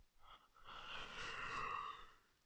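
A single long, quiet yawn, an airy breath swelling and stretching for about two seconds before fading out.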